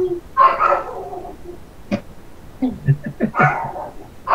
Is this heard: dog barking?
yes